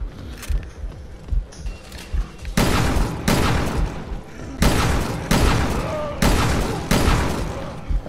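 Heavy gunfire in Resident Evil Revelations 2 Raid Mode, loud booming shots, one early then a run of six or so spaced blasts with short tails, over faint background game noise.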